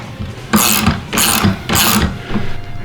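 A ratchet wrench turns a through socket over a nut on a long bolt, three distinct rapid clicking bursts in an even rhythm, close and fairly loud, with no voices.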